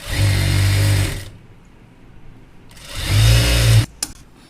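A sewing machine stitches fabric folded over on the inside, running in two loud, steady bursts separated by a quiet pause and ending with a few sharp mechanical clicks.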